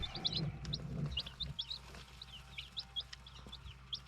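Olive egger chicks, including fibro and heavy-bloom birds, chirp in high, rapid peeps, many overlapping and fairly close. Low rumbling and handling noise run underneath.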